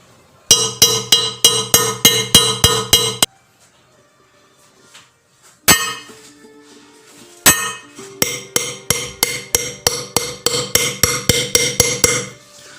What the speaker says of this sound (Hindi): बीच में इससे खोदना है हमें, ये छैनी से।